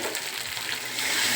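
Hot water is poured into a pot of meat curry in a home kitchen, giving a steady rushing splash with a hissing sizzle that grows slightly louder toward the end.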